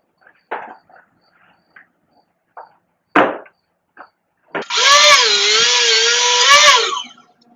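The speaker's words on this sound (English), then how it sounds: "This table saw did a fantastic job at cutting this perfectly straight." A table saw rips a straight cut through wood for a chessboard, first a few scattered knocks and thumps as the board is positioned, then a loud, steady whining cut lasting about two seconds before the blade sound drops away, close and alone.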